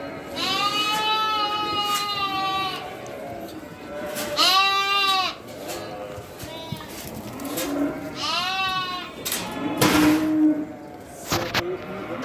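Lambs and sheep bleat at feeding time on a farm, with several loud, wavering calls overlapping in bursts near at hand, separated by brief gaps and background shuffling.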